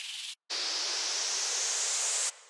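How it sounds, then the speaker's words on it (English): A white noise uplifter effect: a burst of hiss, a brief cut to silence, then a bright, sustained wash of noise that stops abruptly after about two seconds. "Some uplifters like this white noise one."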